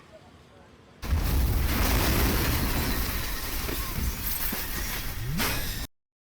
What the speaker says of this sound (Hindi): पूरे 12 धमाके हुए।